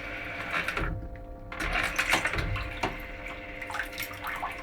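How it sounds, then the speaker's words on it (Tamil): Water spraying from a high-tech Japanese toilet bidet, a steady rushing hiss with mechanical humming underneath, close and fairly quiet, briefly dropping off near the start before resuming. "பீச்சி அடிக்குதுங்க பாருங்க, தண்ணி"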